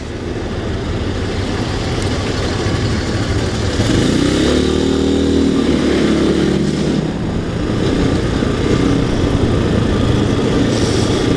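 A CSC TT250 motorcycle's engine drones loudly and continuously while riding through traffic, with a brief rise in pitch midway as the rider revs, close to the microphone with wind noise.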